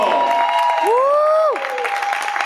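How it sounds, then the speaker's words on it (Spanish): Audience applause at a Samhain festival award ceremony in the Canary Islands, a steady close wash of clapping and crowd noise with a loud sliding whistle-like tone rising and falling over it midway. "Fuerte aplauso."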